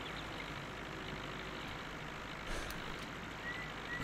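A Fortschritt E 303 self-propelled mower runs in Farming Simulator 19, giving a faint, steady engine hum with a broad noisy texture and no talk over it.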